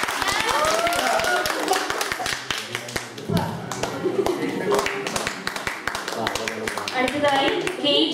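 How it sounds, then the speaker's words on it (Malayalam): Clapping from an audience at a family unit annual day function, a sustained round of sharp, fairly close hand claps lasting several seconds while voices talk over it. "കൈയടിക്കൂ."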